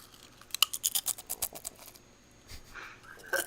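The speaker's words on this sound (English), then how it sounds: "Got original nacho cheese Doritos. Solid crunch. Listen to this crunch, you guys." Original nacho cheese Doritos crunch close to the mic, a quick run of sharp, crackly bites followed by softer chewing.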